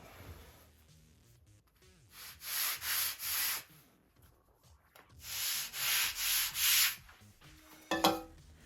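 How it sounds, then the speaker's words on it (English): Sandpaper sanding a slight bevel into balsa sheeting on a Top Flite P-40E Warhawk model airplane build: two close bursts of steady back-and-forth rubbing strokes, three or four strokes each, with a short clatter at the end. "Gonna sand a little bevel in it."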